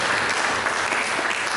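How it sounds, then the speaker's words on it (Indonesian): Loud, dense applause from a church congregation fills the space, a continuous close wash of clapping with no pauses. "Mari kita berikan tepuk tangan yang meriah."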